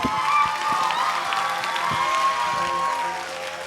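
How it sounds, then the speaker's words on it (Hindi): Audience applause at a gathering honouring two mentors, Tajinder sir and Amit Dubey sir, in Shahjahanpur: a dense, steady wash of clapping that stays fairly loud throughout, with a faint tonal murmur underneath. "हमारे दोनों गुरुओं के लिए, मिस्टर तजिंदर सर और हमारे महागुरु अमित दुबे सर के लिए जोरदार तालियां"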